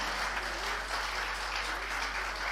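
An audience claps steadily at a Tamil debate-style speech event, a continuous wash of applause that stays fairly faint and even throughout.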